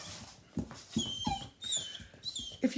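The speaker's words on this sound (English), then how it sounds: "So I have 3 dogs in the house." Dogs whimpering indoors at home, a string of short high whines and yips in quick irregular bursts, close and moderately loud, with no talk.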